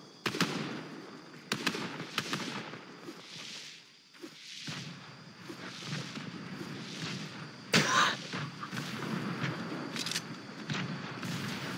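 Grenade explosions in a shooter video game, several sharp blasts and booms scattered irregularly across a noisy background, fairly faint and mixed with other game sounds.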